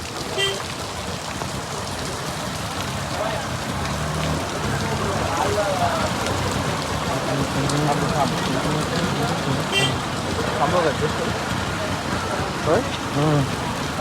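Steady, heavy rain pours down on a market, a constant dense hiss with scattered drips, while voices talk intermittently underneath.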